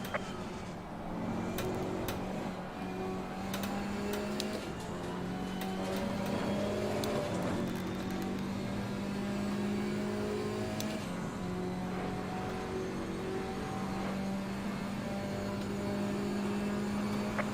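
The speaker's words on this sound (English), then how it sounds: "Faster car coming up behind." A KTM X-Bow GT4 race car engine whines steadily at high revs at Suzuka in Assetto Corsa Competizione, the pitch shifting slightly as a faster car closes in from behind, with a constant droning hum throughout.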